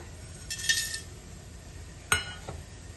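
Meatball curry masala spices stirred as they fry in a spoonful of oil in a pan, heard as a couple of sharp metal spoon clinks against the pan over a quiet background.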